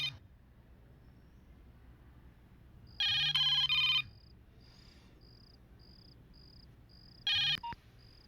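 A telephone rings in two short electronic bursts, a second apart then again after a pause, in a quiet room with a faint steady chirping tone between rings.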